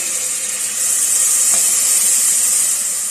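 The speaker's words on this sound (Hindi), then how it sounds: "आप इससे सुन रहे होंगे कि इसमें कितनी प्याज के चटकने की आवाज़ आ रही है।" Onions crackle and sizzle steadily while frying in a pan for goat trotter paya, a continuous close, loud hissing sputter with no talking.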